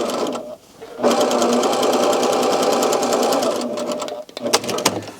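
A sewing machine stitches a fabric seam for a gift bag made from two fat quarters, running as a loud, fast, steady mechanical whir with short starts and stops at either end.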